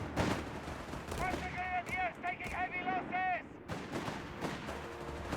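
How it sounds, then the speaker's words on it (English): Skirmish gunfire in Company of Heroes 3, Afrikakorps against US Forces: bursts and rattling shots, some distant, rolling alongside battle noise and a voice talking over the fighting. "Bit of skirmishing there up north"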